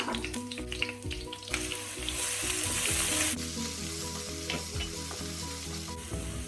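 Onions sautéing in a hot pan for mutton keema macaroni, a loud steady sizzle with scraping stirs of a spatula against the pan throughout, close and continuous.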